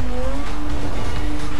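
A car races in Need for Speed Most Wanted: a steady, loud engine roar with a thin tire squeal running over it for under two seconds, with no voices.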